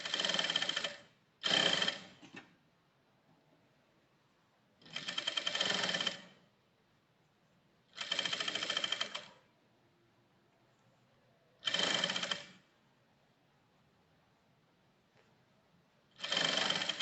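A sewing machine stitching the sleeve of a woman's dress runs in six short, loud bursts separated by quiet pauses, with no talk.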